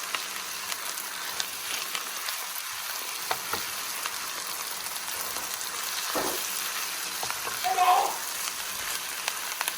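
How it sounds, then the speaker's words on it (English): Garlic and ginger sauté in a pan over medium-high heat, a fairly soft, steady sizzle and crackle that holds for the whole stretch, with a brief louder burst near the end. "So give that a good mix and quickly saute it there"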